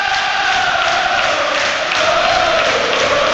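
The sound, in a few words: Plymouth Argyle football fans cheering after a goal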